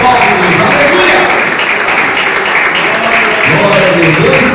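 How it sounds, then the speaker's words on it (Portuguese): A Pentecostal congregation claps during a church service, loud continuous hand-clapping mixed with voices and singing in a reverberant hall. "louvar o Senhor com as palmas"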